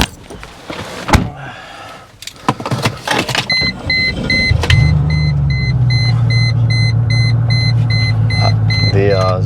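A Mercedes-Benz E55 starts moving after a few clunks and handling noises, then a steady low engine drone and road rumble fill the cabin as it drives, with a faint high whine overhead.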